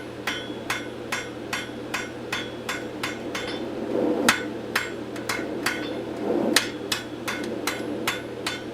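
Hammer blows ring out on hot metal while forging tongs, a steady run of sharp metallic strikes at an even pace, fairly close, with a low hum underneath and no talking.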